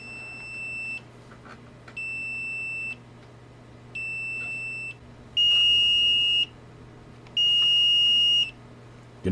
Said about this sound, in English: let's just compare the sound of the beeper